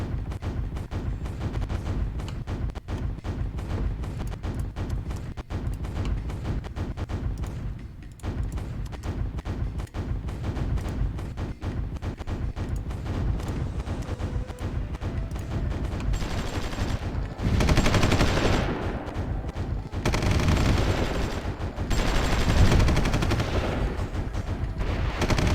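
Heavy artillery and gunfire from the Cold War–era strategy game Supreme Ruler Ultimate, set in Vietnam: dense, continuous rumbling barrages with repeated thuds that swell louder and brighter toward the end, with no talking.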